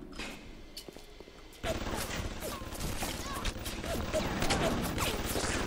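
Security turrets in BioShock open fire, a steady fusillade of rapid shots starting abruptly and continuing loud and close to the end, with a voice speaking faintly underneath.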